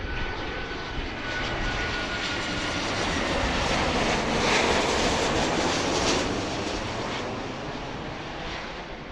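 A jet airliner takes off from runway 27 left at Philadelphia International Airport, its engines a loud, steady broadband roar that swells toward the middle and holds throughout, close and continuous with no talk.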